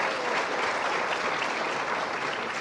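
Audience applause at a talk about Bob Lazar, a steady and even roar of many hands clapping that fills the whole stretch with no break.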